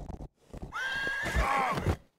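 A horse whinnies in the video game Rustler, a loud drawn-out neigh with a falling tail, surrounded by brief hoof and game sounds, with a short pause before it.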